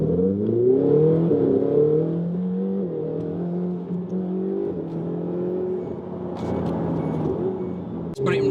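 A car engine drones steadily from inside the cabin while driving, its pitch rising and falling through gear changes as it accelerates, with a person talking over it.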